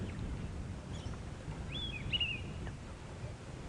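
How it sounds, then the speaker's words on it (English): An orange-breasted bush shrike gives a short whistled call in the middle of the clip, faint against steady wind and low rumble on an early-morning safari drive. "There's an orange-breasted bush shrike calling now."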